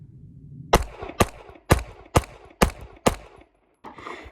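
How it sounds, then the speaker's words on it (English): Six sharp, loud gunshots from an OA Defense Compact Pro pistol fired in rapid succession at a range, evenly spaced about half a second apart, each with a brief ringing tail. "we'll just fire off 6 shots,"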